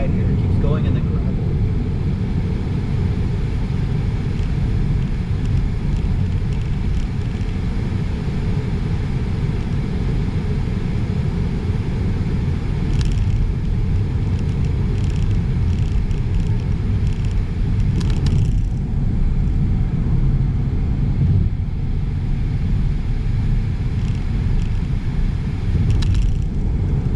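A Tesla Model 3 RWD on Full Self-Driving travels rural country roads, giving a continuous low cabin rumble of tires and road noise with faint occasional bumps.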